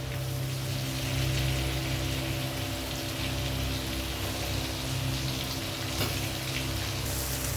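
Boiled, peeled potatoes fry lightly in oil tempered with asafoetida for a vegetarian aloo dum, giving a steady, close, rain-like sizzle that runs unbroken throughout, with no talk.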